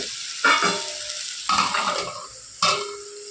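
Ash gourd and fenugreek-leaf chutney is stirred in a hot pan, giving three distinct scraping strokes against a steady sizzle, close and fairly loud, with no talking.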